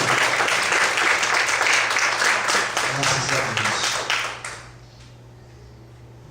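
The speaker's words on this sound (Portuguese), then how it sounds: "Você pode desocupar a sua mão e aplaudir ao Senhor." A church congregation applauds during a Portuguese-language sermon, a dense wash of many hands clapping that fades out toward the end, with a voice speaking briefly over it.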